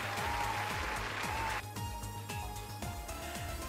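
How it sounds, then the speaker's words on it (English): Steady applause fills the clip, dense clapping throughout, with a repeating low rhythmic beat underneath, the crowd noise thinning slightly midway. "Round of applause, guys, for the Hazo in here."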